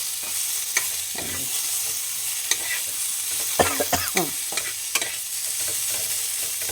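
Crabs being dry-fried in a pan with no oil, giving a constant soft sizzle broken by repeated scraping stirs, close up.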